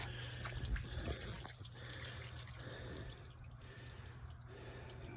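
Water draining from a camper's black water tank, a steady rushing flow with gurgles and drips running continuously at moderate distance, no talk.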